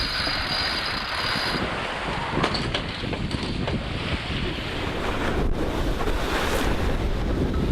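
Strong wind rushes and buffets against a sailboat on a Pacific passage blowing around 15 to 20 knots, with waves surging and slapping the hull in a loud, constant roar that carries no voices.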